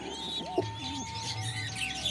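Pigeons, including an old bird sitting with its chicks at a home loft, give a few soft low coos over faint chirping and background hum, fairly near and not loud.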